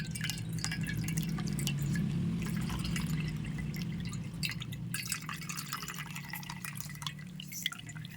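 Beetroot pulp juice drips and trickles through a white cotton cloth into a bowl below, a steady close patter of small wet drops over a low background hum.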